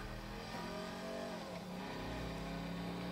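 Car driven fast in the GTA video game, a continuous engine roar with rising and falling revs, steady and fairly loud throughout with no voices.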